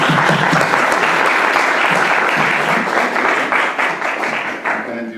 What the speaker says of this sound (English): So I just want to give a round of applause to both of them.